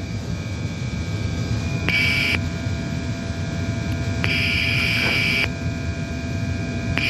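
Inside the cockpit of an Antonov An-74 jet during landing gear retraction, a constant engine roar and electrical hum fill the cabin, and two brief tonal chimes sound over the drone.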